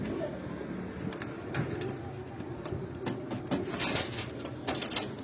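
Pigeons coo softly in a cage, low rolling calls repeating under a voice, with scattered sharp clicks and rustles nearby.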